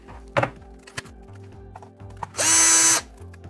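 A power driver zips out small screws from the top shelf of a WLTOYS 124007 RC car, with short buzzing bursts, clicks and a louder half-second whir near the end, all close and without talk.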